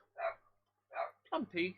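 A dog gives a few short, close barks, two single ones followed by a quick pair, with a person calling out softly in between.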